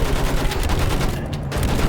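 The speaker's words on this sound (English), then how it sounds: "Use that machine gun! Mow them down!" Rapid automatic gunfire from a machine gun in the Battlefield 1 video game, a dense continuous burst of shots filling the whole moment at close range with no talking.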